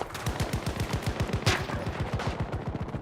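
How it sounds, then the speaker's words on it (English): Rapid automatic gunfire in a video game, a dense, steady stream of sharp shots at close range, with a slightly louder burst midway and no pause throughout. "They shooting from everywhere."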